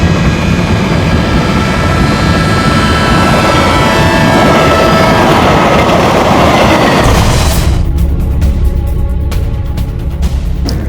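A train passes on railway tracks with a loud, steady rumbling roar close by. Near the end the roar gives way to rapid clacking.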